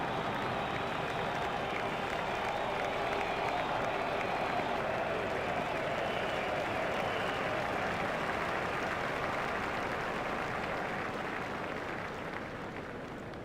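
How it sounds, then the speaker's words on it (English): A large cricket crowd at the MCG during an India versus Australia match applauds a batsman's half-century, a dense sustained wash of clapping and cheering that fades slightly at the end, with a commentator's voice over it. "He deserves the applaud from the crowd today."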